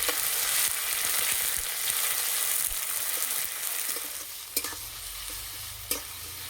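Chopped onions and whole spices, including garam masala and black peppercorns, fry in a pan of oil and caramelized sugar with a loud continuous sizzle. Two brief clatters from a utensil come near the end.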